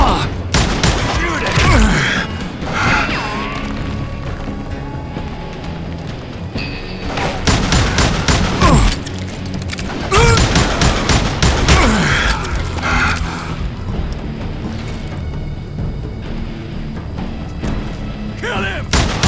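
Rapid volleys of gunfire and heavy booms fill a shootout in the Call of Juarez Gunslinger video game, with loud bursts of shots recurring throughout amid other action sounds.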